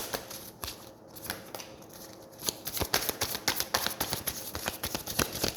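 Tarot cards being shuffled by hand, quiet riffling at first that turns into a dense run of sharp snapping card flicks in quick rhythm, close up and with no talking.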